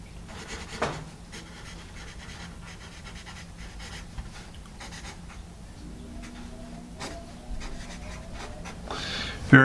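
An eraser rubbing out marks left by an Americas Finest natural cedar pencil on paper, a steady close scratchy scrubbing that runs throughout with a few sharper strokes and a louder scrape at the end, with faint voice in the background.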